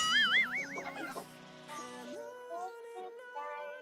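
Chicken clucking from the Free Fire video game, a run of warbling, wavering bird calls followed by steadier sustained clucks, moderately loud and heard without talk over it.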